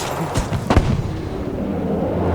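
Sniper rifle gunshots in Battlefield V: a couple of sharp, booming cracks close together near the start, then a rumbling echo over steady battlefield ambience.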